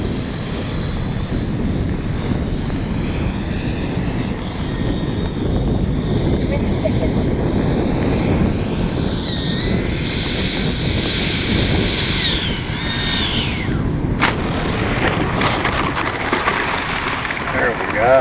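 Freewing 80mm F-5 Tiger 2 RC jet landing, a steady loud whining turbine roar with rushing wind noise throughout, pitch sweeping as the model passes, with a person talking over it.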